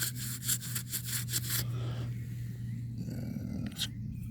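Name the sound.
rubbing a metal find to clean it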